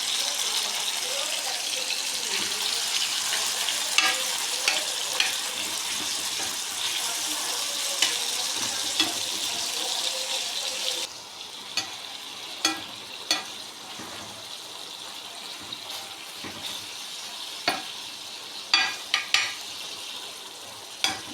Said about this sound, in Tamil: நல்லா மசிய தக்காளி வேகட்டும்